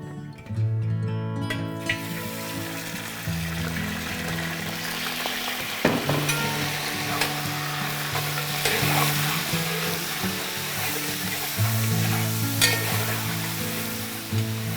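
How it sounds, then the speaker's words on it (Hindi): Spices for Lucknow-style mutton korma, with cardamom, cinnamon and bay leaf, roast and sizzle in a heavy-bottomed pot while a spoon stirs steadily, with clear scraping strokes throughout and no talk. "और भुनाई चालू रहनी चाहिए भाई और बहन, इसका कोई शॉर्टकट नहीं।"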